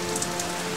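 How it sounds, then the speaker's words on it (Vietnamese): Cold rain falls steadily outdoors in an animated cartoon scene, a soft continuous patter of drops on a surface for a brief moment, with no voices heard. "ngoài kia trời mưa lạnh"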